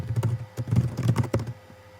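Fingers tap rapidly on a computer keyboard, a close, soft clatter of keystrokes in quick uneven bursts with a brief gap, ending in a few final taps.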